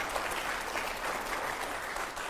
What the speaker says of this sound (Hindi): जोरदार तालियां हो जाए जरा एक बार